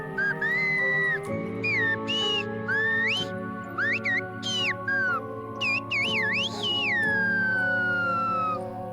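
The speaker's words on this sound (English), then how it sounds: "Today we're gonna learn about the whistling language of La Gomera, El Silbo Gomero." Silbo Gomero, the whistled language of La Gomera in the Canary Islands, carried by loud, clear gliding whistles that rise and fall in short phrases over a steady musical background.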